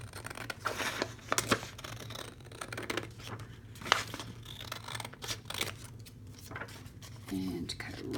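Scissors snip through paper for a journal page made from a Maker Heart Studio kit, several close crisp cuts and rustles in an uneven rhythm under quiet talk.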